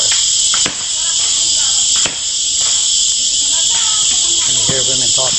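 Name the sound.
crickets chirping in Satkosia forest, Orissa, India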